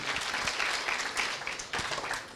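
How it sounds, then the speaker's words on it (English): An audience applauds at a church gathering, a dense steady patter of many hands clapping at moderate distance with no voices over it. "Let's clap for her again."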